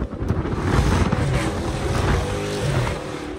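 Dodge Charger SRT 392 V8 engine roaring loudly and steadily while driving, a dense low rumble with wind noise throughout and no voices.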